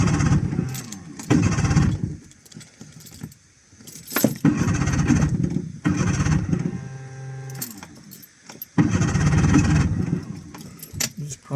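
A boat engine, primed and set on choke after sitting unused for 18 months, is tried several times: loud bursts of cranking and sputtering, each cut off by a short pause, with people talking between the attempts.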